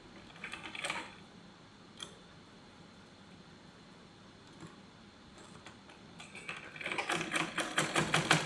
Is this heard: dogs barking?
no